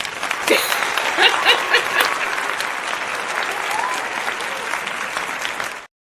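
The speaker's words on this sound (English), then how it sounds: "Let me get you a round of applause." A room audience gives a round of applause, sustained dense clapping with a few cheers and chuckles mixed in, steady and fairly close, cutting off abruptly.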